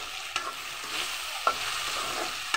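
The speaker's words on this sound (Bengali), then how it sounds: "আমি এটাকে আরেকটু ভেজে নিচ্ছি।" Potatoes with turmeric frying in a pan, cooked with bombay chillies and dried fish, give a continuous close sizzle and hiss, with three sharp clicks of a spatula striking the pan and no talking.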